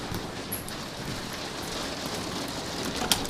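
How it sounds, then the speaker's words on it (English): Heavy rain pours down outside, a steady dense hiss with spattering drops on surfaces, constant and fairly loud with no talking. "it's raining pretty good outside."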